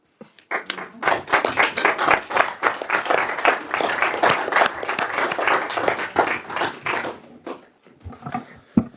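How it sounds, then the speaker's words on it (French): Council members applaud in a town hall chamber right after a new mayor is elected, a close, loud round of individual claps with audible hand detail that builds quickly, holds for several seconds, then thins out with a few stray claps. "merci à tous pour les applaudissements et le vote"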